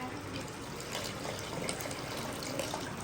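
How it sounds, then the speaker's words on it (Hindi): Water from a glass pours steadily into a pan of spiced yogurt curry mixture, a continuous close splashing gush with no talk. "और अब हम इसमें 1 गिलास पानी ऐड कर देंगे।"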